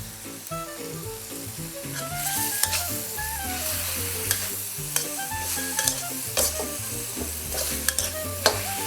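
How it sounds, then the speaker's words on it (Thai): Holy basil leaves are stir-fried in a hot pan with sauce and pieces of cake, making a loud, steady sizzle with sharp scrapes and taps from the spatula, close by and without talking. "ขั้นตอนสุดท้ายนะคะใส่ใบกะเพราลงไปเลยค่ะ"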